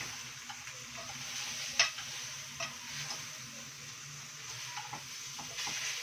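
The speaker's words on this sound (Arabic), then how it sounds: "وكل دول هحطهم تشويحه كده تاخدوا تحميصه معاهم" Bay leaf, garlic cloves and a tomato sautéing in a pan for an Egyptian home-cooked lunch, a steady close sizzle broken by occasional ticks and clinks of stirring.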